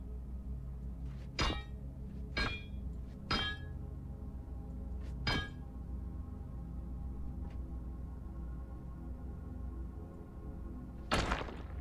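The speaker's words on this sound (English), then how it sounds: "Ah, there we are. This is the hammer." In the video game Starbase, a hammer breaks rock with sharp metallic impacts: five or six distinct clanking strikes spaced irregularly over a steady low mechanical hum.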